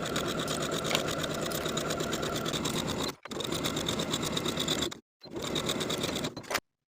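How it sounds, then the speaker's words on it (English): A sewing machine stitches the side and shoulder seams of a vintage drop-waist dress in a steady, close, fast mechanical whir. It pauses briefly twice before stopping. "I'll sew both of the side seams and both of the shoulder seams with a 1/2 inch seam allowance"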